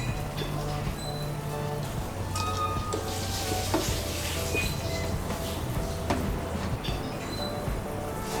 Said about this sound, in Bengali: এই ঝোলের মধ্যে আমি দিয়ে দিচ্ছি অল্প ভাত।